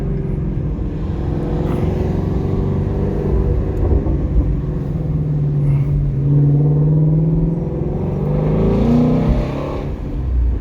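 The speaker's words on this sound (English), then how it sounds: "Oh yeah, the exhaust sounds way better." A sports car engine rumbles steadily and swells as it accelerates, its deep exhaust note rising and falling, close and loud throughout with no talking.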